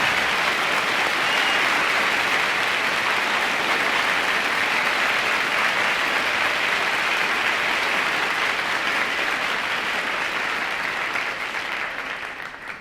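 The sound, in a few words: audience applause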